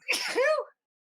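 A single sharp human sneeze, close and loud, a quick burst lasting well under a second followed by silence.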